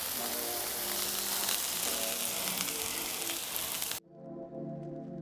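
Burger patties for a patty melt sizzling on a hot griddle, a dense loud crackling hiss up close that cuts off abruptly near the end, leaving a faint low hum.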